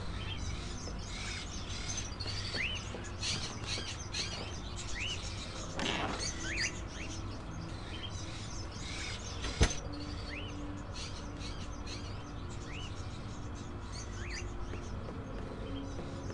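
Crows kept in cages in the video game Indigo Prophecy chirp and call repeatedly over a constant ambient drone, with a brief thud and a sharp click partway through and no speech.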